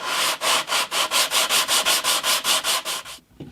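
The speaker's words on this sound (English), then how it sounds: "I'm just using some 60 grit sandpaper to try and take that right back" Wood on a 50-year-old acoustic guitar neck is sanded by hand with 60 grit sandpaper, about fifteen loud, rapid, evenly spaced rasping strokes close up, stopping just before the end.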